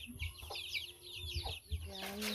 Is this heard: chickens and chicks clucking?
yes